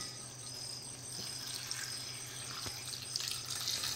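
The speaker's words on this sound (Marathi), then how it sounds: "त्याच्यात आता एक तांब्याभर पाणी घालूया आपण" Water from a jug poured onto washed ambadi (roselle) greens in a pan, a steady splashing pour running throughout, fairly close and moderately loud, with no talk over it.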